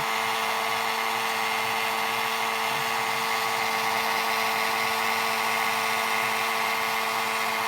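A heat embossing tool hums and blows continuously at close range, melting embossing powder on a handmade stamped card, a steady motor whine with no break and no voices.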